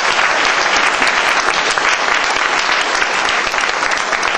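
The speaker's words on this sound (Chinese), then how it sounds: "我再一次想提议大家以热烈的鼓掌声" Audience applause at an international Asia-Pacific debate competition semifinal, a dense, loud, steady clapping from a large crowd filling the hall without pause.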